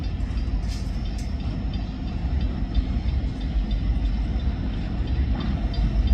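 A freight train loaded with pulpwood rolls past on the rails, a loud, steady rumble with faint rhythmic clicks from the cars throughout.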